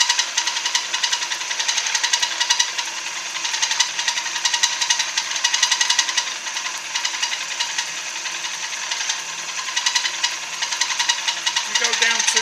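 A milling machine cutter fed slowly down into a workpiece, giving a steady, dense whirring grind with a faint rapid pulsing that runs unbroken for the whole stretch.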